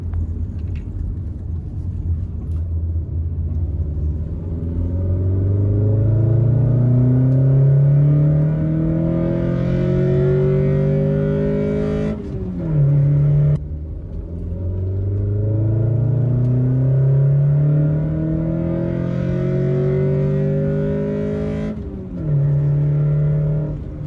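A Honda Accord with a cold air intake accelerating hard, engine pitch climbing loud and close through two long pulls, each cut by a brief drop at the gear change.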